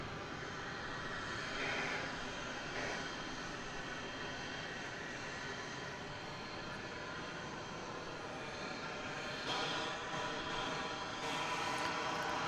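An American Airlines Airbus A321 jet passes at DFW Airport, a steady broadband roar holding evenly for the whole stretch with a slight swell near the end, moderately distant and without talk.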